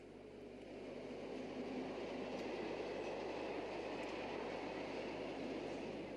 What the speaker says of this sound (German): Und so rollt er mit Doppeltraktion 212 auf Würzburg zu.